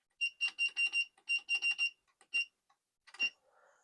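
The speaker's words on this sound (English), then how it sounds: "That beep is really loud." Yihua 948D3 soldering station giving a series of loud, shrill electronic beeps in quick bursts, several pulses in a row with a pause and a final beep, close to the microphone with no talking, at a PCB holder during kit assembly.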